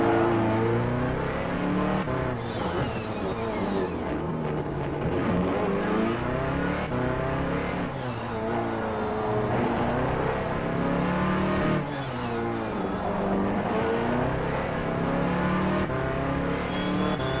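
The number 9 Ferrari 429P in a virtual sportscar race on the Long Beach street circuit, heard onboard as a loud engine screaming up through the gears, dropping on downshifts and rising again in repeated acceleration runs.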